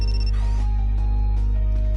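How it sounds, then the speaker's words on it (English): A phone rings in the Date A Live: Rinne Utopia video game, a loud, steady electronic ringtone that repeats over an ongoing tonal background with no speech. "I have a phone call."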